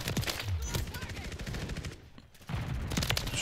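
Video game shooter with a Renetti SMG pistol: rapid, crackling bursts of close gunfire with sharp repeated reports, a brief lull partway through, then firing resumes loudly.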